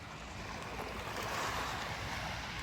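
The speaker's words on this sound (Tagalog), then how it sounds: "Uy, mukhang aabutin ako ng alon" Surf washing in at Dolomite Beach on Manila Bay, a continuous close rush of breaking water mixed with gusty wind buffeting the microphone, with no talking.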